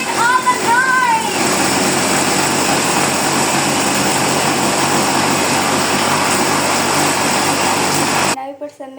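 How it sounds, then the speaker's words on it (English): Electric grinder turning sugar into powdered sugar, a loud continuous whirring roar that holds steady for several seconds and then cuts off abruptly, with a brief voice near the start. "we have to grind it separately because we want to have powdered sugar"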